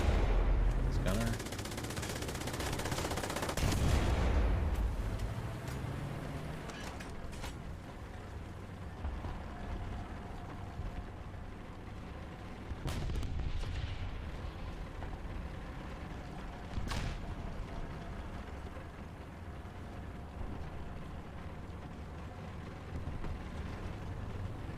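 Tank gunfire in a World War II video game as an M4 Sherman fires on a T-34, with a heavy boom early on, then later shots and rumbling engine and battle noise throughout, loud and continuous.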